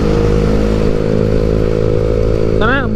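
A 2013 Yamaha Xeon RC scooter engine runs steadily up close, a loud continuous low rumble with a brief rising rev near the end.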